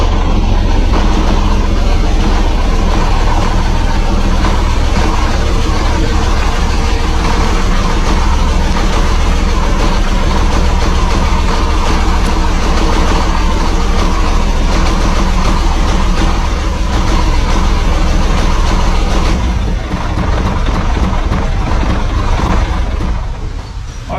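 Tracks of an old tracked machine grinding and clattering along after being soaked in diesel, lubricant and PB Blaster, a loud continuous rumbling clank that runs steadily and eases off near the end.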